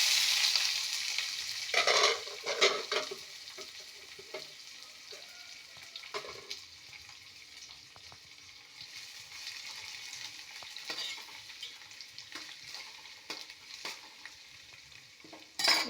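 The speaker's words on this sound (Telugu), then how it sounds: "కొంచెంసేపు బాగా వేగాలండి అది." Onions and green chillies frying in a pan in a home kitchen, heard as a soft, continuous sizzle with occasional stirring scrapes and taps. The cooking is fairly quiet and close, and nobody speaks over it.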